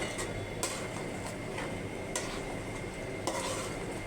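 Spoon stirring and scraping through goat meat curry in a pot as potatoes go in, steady soft sizzling with a few sharper clinks, no talking.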